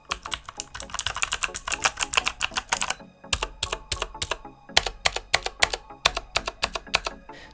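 Rapid, loud clicky keystrokes come from a MechanicalEagle Z-77 mechanical keyboard with Outemu blue switches. The typing runs as a dense burst, pauses briefly, then continues in separate sharp clacks with no talking.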